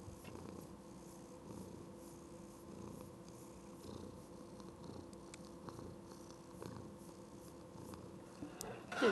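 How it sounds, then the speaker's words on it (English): A pet cat purrs close to the microphone in a quiet room, a soft steady rumbling loop that runs unbroken from start to finish, with a faint rustle near the end. "Go purr into the microphone."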